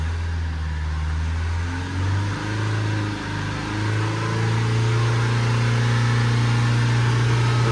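Renault Trafic 1.9 diesel van engine, with a low steady hum that climbs in pitch as the revs are raised to about 3,500 rpm and then held there. It sounds close and continuous.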